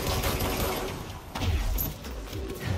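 Video game gunfire rattles in dense, continuous bursts, loud and close, with brief dips between volleys.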